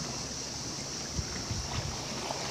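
Conodoguinet Creek in Pennsylvania runs past on a summer evening, a steady soft wash of flowing water with faint irregular splashes and a high insect chirr in the background.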